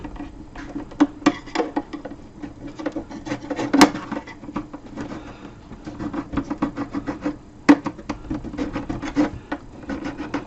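A hand rasp files hardened filler on a wooden PYE PE39U radio cabinet, producing a steady run of scraping, rubbing strokes close up, with a few sharper knocks along the way.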